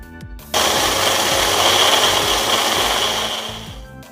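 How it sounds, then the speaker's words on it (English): An electric mixer grinder blending red Kashmiri chilies and spices with vinegar into a smooth paste starts abruptly and runs as a loud, steady whirring roar that fades slightly near the end. "Now we will transfer all of this into a mixer grinder and use vinegar to make a smooth"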